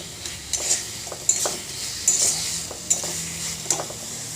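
Vegetables fry and are stirred in a pan, a soft steady sizzle broken by repeated scraping strokes of a utensil at an irregular rhythm, close and fairly quiet with no one talking.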